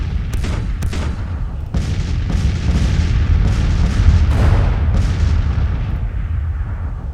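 Civil War artillery firing in the Grand Tactician strategy game, repeated booming cannon shots at irregular intervals over a constant low battlefield rumble, some shots sharp and near, others more distant.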